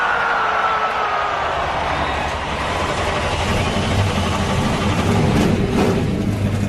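Race car engines at the Kobalt 400 in Las Vegas fire up and settle into a continuous, loud, throaty idle, with a rising whine running under the rumble.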